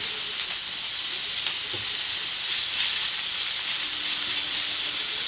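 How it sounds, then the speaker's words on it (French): Grated carrots and onions sizzle in a frying pan, a steady bright hiss of frying that holds evenly close by for the whole stretch, with no talking. "Et vous laisserez revenir dans la poêle pendant quelques minutes."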